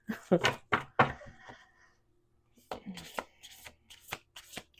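Cards riffle and shuffle in quick bursts of crisp fluttering snaps, with a pause between rounds, close and fairly loud.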